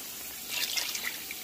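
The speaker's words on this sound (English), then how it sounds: "So I'm going to add some more water in there" Water poured into a cooking pot, a soft splashing burst that swells in the middle and fades, fairly quiet and heard alone.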